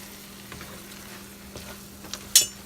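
Cheese is stirred into a hot pot with a faint steady frying sizzle and soft stirring strokes, ending in one sharp metallic clink, heard close and quiet with no talk.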